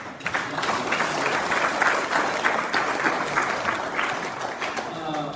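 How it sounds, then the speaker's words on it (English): A crowd in front of a stage gives a loud, dense round of applause, sharp claps blending into a continuous roar that holds steady for several seconds before easing slightly at the end. "give yourselves a round of applause"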